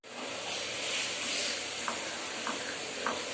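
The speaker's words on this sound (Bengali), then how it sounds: "এখানে হচ্ছে মশলা ভাজা" Spices frying in a pan make a quiet, continuous sizzle and hiss, with a few faint clinks spaced through it.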